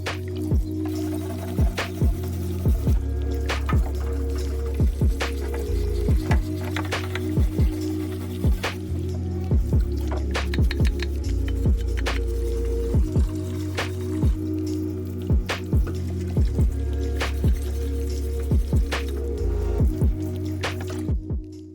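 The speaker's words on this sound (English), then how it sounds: "I'm going to take this case over to the parts washer, get it all cleaned up while I have it apart" A water-based parts washer cleans a dirt bike engine case, with a steady low pump hum and repeated sharp drips and splashes of solvent in an irregular rhythm, close and alone without talk.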